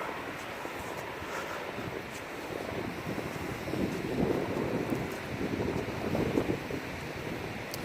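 Strong wind gusts on a cold mountain trail, buffeting the microphone in rough rumbling surges that build louder toward the end, with no talk.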